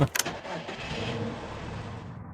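A car engine starts in the video game Sorry We're Open: a few quick clicks and a crank, then an even, moderately loud engine hum that carries to the end.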